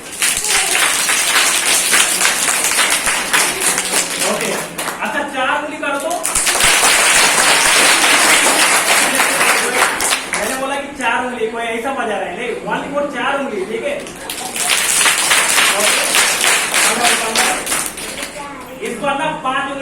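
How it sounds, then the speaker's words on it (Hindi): A group at a village children's assembly claps in bursts, building to loud full-hand applause between stretches of a speaking voice, with children's chatter mixed in. "जब हम लोग एक उंगली से ताली बजा रहे थे ना, तो तब थोड़ा सा साउंड हो रहा था"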